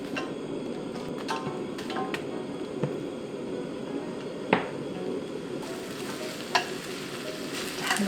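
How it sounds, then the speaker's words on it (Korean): Ingredients stir-frying in avocado oil and unsalted butter for a butter chicken curry: a steady close sizzle with occasional spatula taps and scrapes against the pan. "노릇노릇해질 때까지 볶아줍니다"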